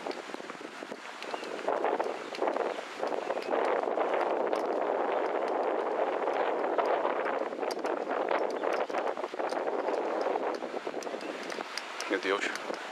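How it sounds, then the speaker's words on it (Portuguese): Strong wind buffets the microphone on a railway viaduct in a constant roaring rush, with gusty fluctuations throughout and no clear voices. "só que tá ventando a beça"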